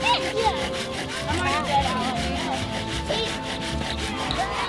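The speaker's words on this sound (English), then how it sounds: "The host gave us a demonstration of the bow drill" Rhythmic wooden rubbing and grinding strokes of a bow drill making friction fire, pawpaw-wood spindle on a pawpaw fireboard, steady back-and-forth friction close up, with faint background voices at a festival.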